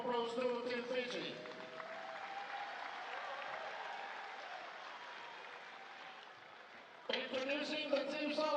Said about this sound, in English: let's give a big round of applause to Team Fiji